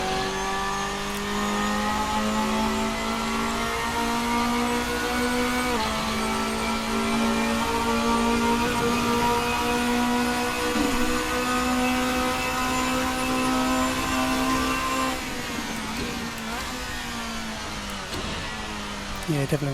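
A race car from the RSS GTN Group N-GT pack in a racing sim, its engine droning loud and close as it revs through the gears, with sharp throttle blips on each downshift and a voice talking over it.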